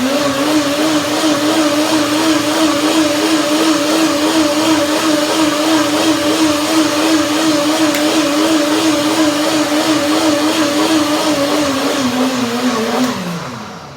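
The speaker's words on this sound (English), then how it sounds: "One more blending." A blender whirs continuously for about thirteen seconds while blending curry tahini mayonnaise, a loud, steady motor drone with a slight wavering pitch, then it winds down and stops at the end.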